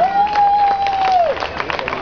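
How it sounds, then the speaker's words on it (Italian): An outdoor crowd at the Cavalcata Sarda in Sassari claps and cheers for the Coro di Piaghe choir, a short burst of applause and hubbub under a held whistle-like tone. "un applauso per il coro di Piaghe"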